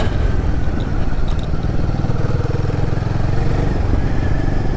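A Royal Enfield Guerrilla 450 motorcycle rides along a country lane, its engine thrumming steadily and loud up close for the whole stretch, with no talk over it.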